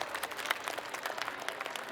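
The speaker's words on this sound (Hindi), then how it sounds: "आज जो इस परिवार में शामिल हुए हैं उनका भी तालियां बजा के एक बार अभिनंदन कीजिए" Scattered audience clapping at an Aam Aadmi Party political rally in Matiala, Delhi, with individual claps audible at a moderate distance in a loose, uneven rhythm.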